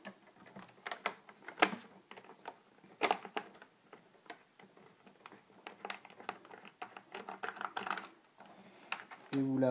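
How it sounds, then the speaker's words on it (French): Unscrewing the last screw from a PS3 console produces a run of small, close clicks and taps. Faint handling noise sits between them. "maintenant, vous pouvez enlever cette dernière vis"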